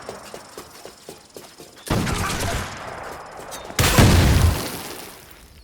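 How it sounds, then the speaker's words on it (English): Gunfire in the Assassin's Creed Shadows video game: a run of quick faint shots, then two loud heavy bursts of fusillade that crash in and ring out. "She's up there shooting at us!"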